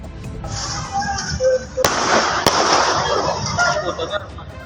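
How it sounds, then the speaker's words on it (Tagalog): Two sharp gunshots ring out a moment apart over busy outdoor background noise, fired during a robbery, with a rooster and chickens audible nearby. "2 beses pang nagpaputok ng baril"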